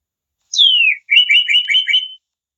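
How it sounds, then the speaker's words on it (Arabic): A small bird gives a clear descending whistle followed by a rapid run of bright chirping notes, close and loud against silence. "bird."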